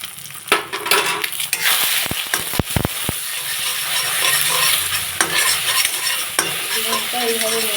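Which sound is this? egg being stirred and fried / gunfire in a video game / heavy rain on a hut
egg being stirred and fried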